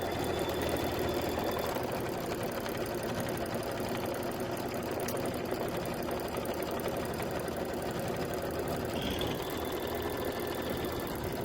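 An embroidery sewing machine stitches a quilted outer border in one long unbroken run, with a dense, steady mechanical whir and rapid needle chatter that stays at an even level throughout.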